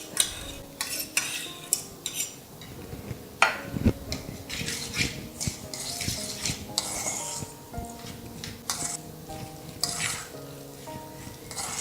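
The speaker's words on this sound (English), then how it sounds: "To mix the Rava and the yogurt together until it is well combined." A spoon stirs and scrapes a thick semolina (rava) and yogurt mixture in a bowl, with repeated close clinks and wet rubbing strokes in an irregular rhythm and no talking.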